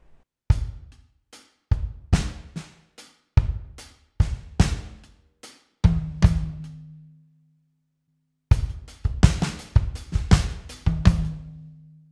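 Drum fill from the intro of a song, played on a close kit as sharp, punchy hits in two bursts with a ringing low tom in between and a few seconds of silence, no voices.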